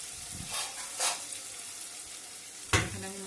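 Pieces of aar fish going into a pan of nearly boiled potatoes in a Bengali fish curry, bringing a few short bursts of sizzle and stirring. The bursts are moderately loud, separated by quieter hissing.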